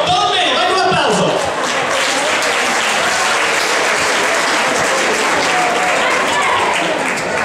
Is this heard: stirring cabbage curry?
no